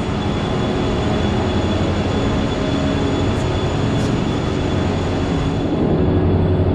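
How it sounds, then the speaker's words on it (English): Steady, loud rail rumble and hum from an Amtrak passenger train in Chicago before its run to New Orleans, continuous and unbroken with no talking. "This train about to leave a little bit after 8 p.m. from Chicago."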